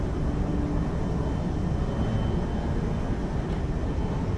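Airplane in flight in the film Captain America: The First Avenger, a steady, loud, droning engine and airflow roar that continues without break.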